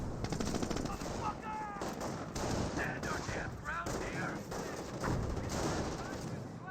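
Gunfire in the World War II strategy game Company of Heroes as Panzer Grenadiers engage riflemen, with rapid machine-gun bursts and scattered rifle shots crackling continuously over a rumbling battle background, and a voice talking at times.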